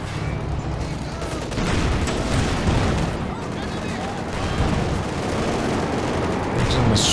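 An aircraft strafing run in a Company of Heroes 2 battle sends dense, sustained gunfire and explosive bursts rolling across the battlefield, loud and continuous, with a voice talking over it.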